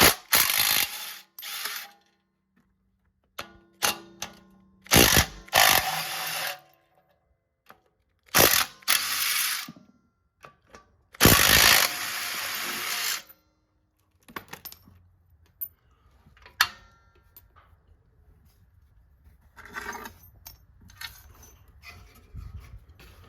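Bursts of a pneumatic impact wrench fitted with a 9/16 socket, loosening rear brake parts on a car; several loud, rattling hammering bursts separated by quiet gaps, followed by softer clinks and handling noises.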